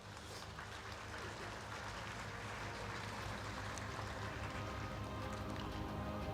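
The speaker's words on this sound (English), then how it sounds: "Everyone, a big round of applause for our superstar." An audience at a school summit in Meghalaya applauds a guest being honoured, a steady dense wash of clapping heard from a distance that holds evenly throughout.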